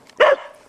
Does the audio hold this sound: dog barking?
yes